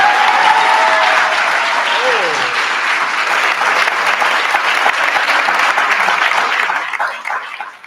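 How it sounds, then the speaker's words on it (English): Loud audience applause, a dense wash of clapping that holds steady for several seconds before fading out. "Let's give him a big round of applause."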